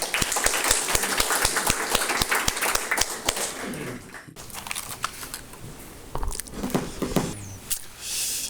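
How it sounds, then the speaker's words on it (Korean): Audience applause welcoming a speaker to the podium at a founding ceremony, dense clapping for about four seconds, then breaking up into scattered claps and room noise. "여러분의 큰 박수로 환영해 주시면 감사하겠습니다"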